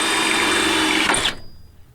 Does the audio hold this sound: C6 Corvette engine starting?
no